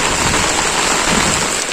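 A steady, loud downpour drums on surfaces near a school in Bicol during Storm Amang, a dense continuous hiss of rain heard alone without any voices.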